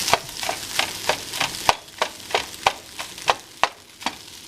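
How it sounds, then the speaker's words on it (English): Chicken thigh and vegetables stirred in a pan, with a steady rhythm of roughly a dozen sharp utensil scrapes against the pan over a soft sizzle, close and clear, with no voices. "Make sure you stir from the bottom so it won't start sticking."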